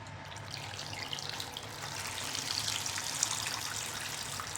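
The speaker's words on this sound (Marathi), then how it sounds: "आता ह्यामध्ये पाणी घालायचं आहे" A steady stream of water pours continuously into a bowl of amla (Indian gooseberries), splashing softly and evenly from start to finish.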